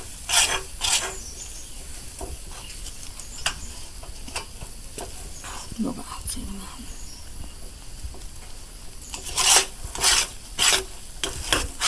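Food stirred in a cooking pan while making a pera sweet, with scraping and rhythmic clinks of the utensil over a low sizzle, growing into a quick series of louder scrapes toward the end, close and without talking.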